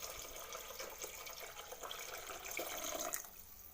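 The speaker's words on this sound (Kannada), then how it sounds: "ಆರು ಗ್ಲಾಸಷ್ಟು ನೀರು ಹಾಕ್ಕೋತೀನಿ." Water pours steadily into a cooking pot, about six glasses' worth for tomato rice, as a faint, continuous splashing trickle.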